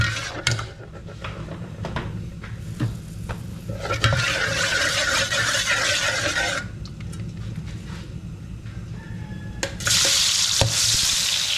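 Water splashes and pours into a pan for ginisang upo, a Filipino sautéed bottle gourd dish with malunggay, a close, steady wet rush with clinks and spatters, ending in a louder burst of running water.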